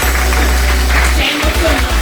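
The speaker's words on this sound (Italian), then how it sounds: "Accogliamo un grande applauso il titolare dell'Alberto Roma" A crowd at a beauty pageant in Rome applauds to welcome a hotel owner, with dense, steady clapping over a low rumbling hum for the whole stretch.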